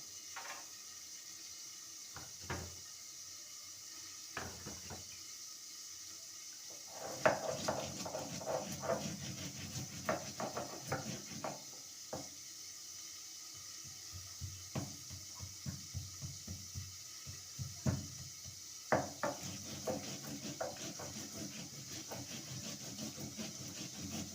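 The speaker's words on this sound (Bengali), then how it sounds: "ওয়ান স্পুন সাদা সর্ষে ওয়ান স্পুন কালো সর্ষে দিয়ে দিলাম আর এক টুকরো আদা সামান্য লবণ দিয়ে এটাকে" White and black mustard seeds with a piece of ginger and a little salt are ground into paste. Faint scraping, knocking strokes come sporadically at first, then in a steadier rhythm.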